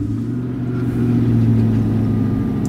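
A 2021 Corvette Stingray Convertible engine hums steadily at idle after starting, swelling slightly in the middle with a low rumbling drone, no talking.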